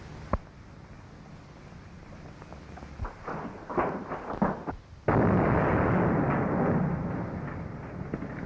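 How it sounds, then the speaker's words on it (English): A sharp bang from an explosion in a main tunnel is followed by scattered thuds and cracks, then a loud sustained roar of rumbling debris that slowly fades. "The main tunnel's blown up."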